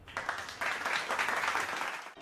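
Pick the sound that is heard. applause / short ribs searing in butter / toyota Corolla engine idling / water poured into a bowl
applause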